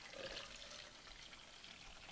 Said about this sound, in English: So when you fill the water in, you're going to pour it in on the sides.